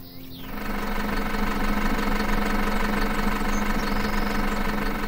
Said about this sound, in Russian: Больно вид красивый, когда вот все трактора на полях работают